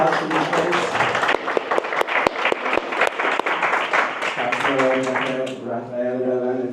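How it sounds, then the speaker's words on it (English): A live audience at an AI storytelling event in Mexico City claps for the speakers, with clustered sharp claps and talking over the top, then the clapping fades as a voice carries on alone. "Everybody give an applause for these folks."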